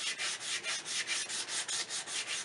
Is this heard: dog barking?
no